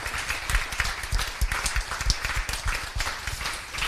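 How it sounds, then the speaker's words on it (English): Audience clapping closes a conference panel on trade policy in Vienna, a moderately loud, uneven patter of many hands that carries on without a break. "A big applause to all of us for this fantastic"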